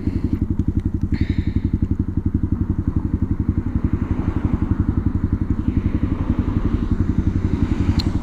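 A motorcycle ridden with the rider standing up off the bike throbs with a steady, rhythmic engine pulse, loud and close throughout, with faint wind and clatter over it.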